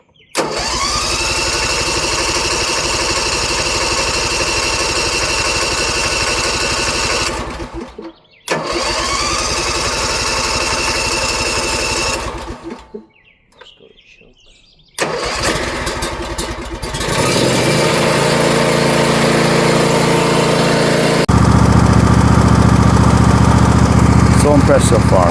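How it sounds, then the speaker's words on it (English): A DR brush cutter with a 30-inch deck has its engine pulled over and started. It sputters, cuts out briefly, catches again, and then runs loud and steady at full throttle until the end. "So now we'll give it a try to start it."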